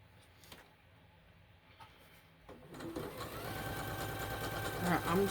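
Sewing machine chain piecing cotton quilt fabric strips for a pumpkin patch quilt, starting quiet and then running in a steady, fairly close mechanical whir from midway on.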